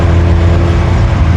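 A Porsche engine fitted in an all-wheel-drive VW Kombi held at high rpm, a loud, steady, buzzing engine roar close by with no pauses.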